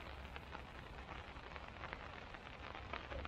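Rain falling at a foggy campsite, a faint, steady patter of drops with low background hiss and no voices.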